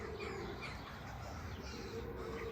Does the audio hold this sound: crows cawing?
yes